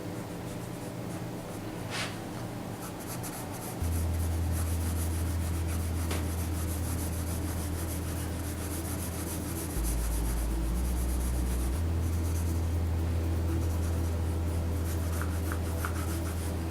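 Graphite pencil shading tone across drawing paper, a steady close-up scratchy rubbing that continues throughout with a constant low hum behind it.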